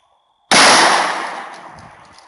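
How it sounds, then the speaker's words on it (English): One loud gunshot from an XD40SC pistol fired at a target during an ammunition test, a sudden sharp blast after a near-silent moment, followed by a long decaying echo. "Let's shoot that one more time for good measure."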